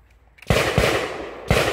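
Shotgun blasts at a 3-gun shooting stage: two loud sharp reports about a second apart, each with a long echoing tail, after a moment of quiet.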